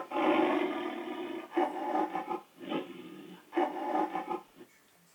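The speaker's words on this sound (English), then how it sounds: "Oh, it's actually a tiger." A tiger gives four deep, rasping roars in separate bursts, each swelling and then cutting off, loud and close with short quiet gaps between them.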